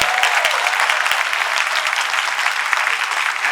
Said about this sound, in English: If we could give them one more big round of applause.